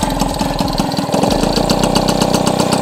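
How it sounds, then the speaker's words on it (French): A small HPL engine, just repaired with new breaker points, idles slightly low and runs steadily close by, its loud, even chugging going on for the whole stretch with no talk over it. "elle a le ralenti un petit peu bas"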